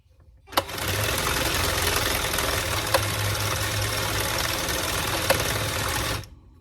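A knitting machine runs in a home crafting setup, giving a steady, close mechanical whirr for about six seconds with a few sharp clicks along the way before it stops. No one speaks.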